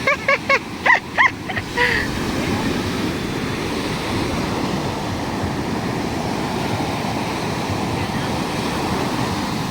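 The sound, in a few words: strong ocean waves on a beach in Zambales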